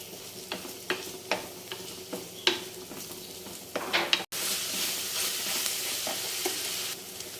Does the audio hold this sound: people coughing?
no